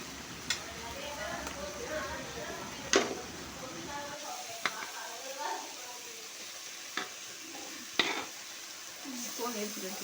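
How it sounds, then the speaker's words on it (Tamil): Chicken being stirred with masala in a pan for a village-style chicken kulambu, soft frying sizzle under repeated scraping strokes and occasional sharp knocks of a utensil against the pan, with a voice talking throughout. "சிக்கனை சேர்த்து நல்லா இப்படி மசாலா சிக்கனில் சேர்ற மாதிரி நல்லா கிண்டி விட்டுருங்க."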